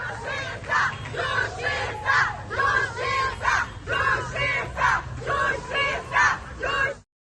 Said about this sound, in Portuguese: um grupo de pessoas a recebeu com gritos de justiça